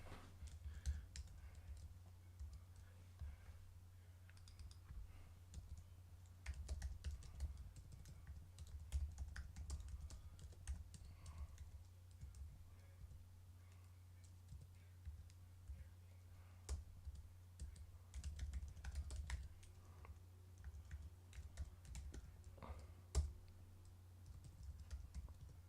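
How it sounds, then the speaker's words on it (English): Fingers tap steadily on a computer keyboard close by, quiet irregular clicks running throughout over a low constant hum. "I'm typing it out."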